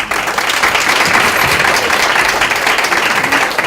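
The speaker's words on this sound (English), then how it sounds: "so let's have a round of applause." Audience applause at a community gathering, a dense, steady wash of many hands clapping close by and loud for the full length, with no speech over it.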